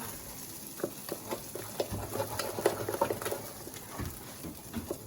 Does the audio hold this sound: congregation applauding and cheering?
no